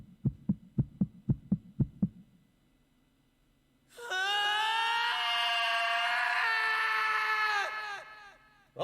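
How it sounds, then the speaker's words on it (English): A drawn-out, high-pitched anime scream from the Zero Escape 999 video game cuts in loud and sustained for about four seconds, following a run of rapid thumping heartbeat pulses. "That's a quality anime scream."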